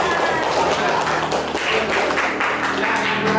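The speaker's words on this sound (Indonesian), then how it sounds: "Tepuk tangan Bapak-bapak." Adult men in a classroom give a dense, continuous round of applause that fills the room evenly from start to finish.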